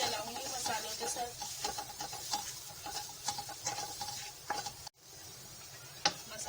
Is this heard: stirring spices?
yes